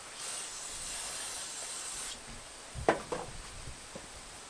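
Brake cleaner sprays into the carburetor throat of a classic Oldsmobile Cutlass as a steady hiss for about two seconds, then stops; a few sharp knocks and clatters follow close by.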